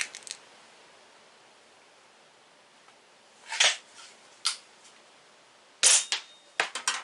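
Stoeger X3 Tac air rifle firing RWS pellets, two sharp, close shots a couple of seconds apart, each followed by a few light clicks and handling noises in an otherwise quiet room.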